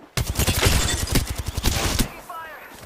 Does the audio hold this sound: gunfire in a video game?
yes